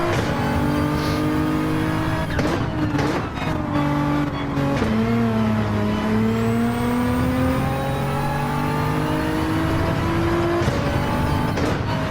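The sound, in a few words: race cars including Corvette and Nissan racing at Catalunya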